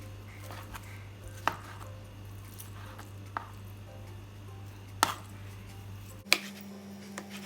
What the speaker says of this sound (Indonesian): Tahunya dipotong-potong.